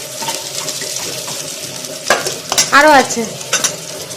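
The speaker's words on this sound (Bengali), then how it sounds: "এবার আলুগুলো একটু ছেঁকে তুলে নিচ্ছে।" Potatoes fry in hot oil in a pan, with a steady sizzle and a few sharp scraping stirs close up, and a voice speaking briefly.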